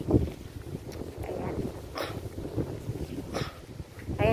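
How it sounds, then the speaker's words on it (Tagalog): Steady gusting wind roars across the microphone, a broad rumbling rush with brief louder buffets, and faint voices mixed underneath. "Sobrang malakas ang hangin."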